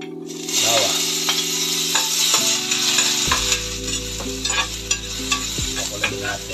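Garlic sizzles loudly and steadily as it sautés in a little cooking oil in a pan, the first step of a pink salmon sinigang in miso. The frying hiss stays close and constant over soft background music.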